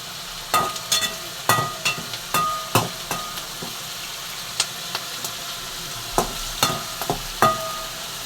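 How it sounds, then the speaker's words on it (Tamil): Bitter gourd frying with small onions and curry leaves in a pan, a bright steady sizzle cut by a rapid series of sharp spatula taps and scrapes against the metal, close and loud without any voice. "இப்போ பாவக்காவுக்கு வந்து நம்ம வெங்காயமும் கருவேப்பிலையும் வெந்துக்கிட்டு இருக்குப்பா."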